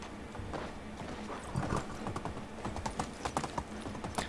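Donkey mount trotting in Medieval Dynasty, a steady run of light clip-clop hoofbeats, fairly close and moderately loud, with an uneven rhythm and no talking over it.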